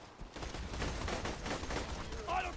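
Rapid machine gun bursts in the shooter game Borderlands 2, a dense continuous rattle of gunfire at moderate volume with a short electronic tone near the end.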